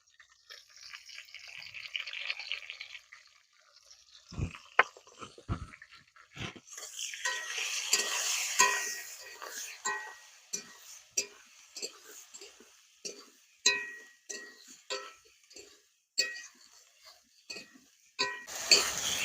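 Green chillies and mango are stirred into a pan of fried potatoes, ginger paste, tomato and turmeric. A spatula scrapes and clicks against the pan in short, irregular strokes, close by, with a faint hiss between them.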